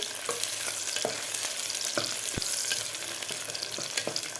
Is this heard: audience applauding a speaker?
no